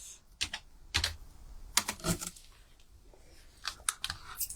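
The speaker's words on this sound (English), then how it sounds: "Let me type that in again." Computer keyboard typing in irregular bursts of quick clicks with short pauses between, close and moderately quiet, during a card-making supply unboxing; no talking.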